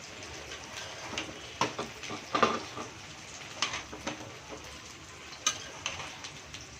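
Taro stolons going into a cooking pot and being stirred: faint, scattered clinks and soft scrapes against the pot over a low, quiet background hiss.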